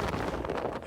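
Strong wind roars steadily through a blizzard in the Gobi desert, buffeting the microphone with dense, unbroken noise throughout.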